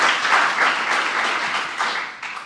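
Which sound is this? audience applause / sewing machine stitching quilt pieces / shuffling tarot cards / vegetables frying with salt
audience applause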